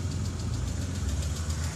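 A 2.0L AEG engine in a VW idles steadily in the background, a continuous low rumble carrying a faint, regular ticking throughout.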